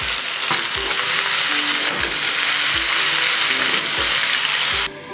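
Mixed vegetables for a moong dal sizzle loudly in hot oil with grated ginger, a steady, dense frying hiss, with a few soft knocks of stirring throughout and no talking.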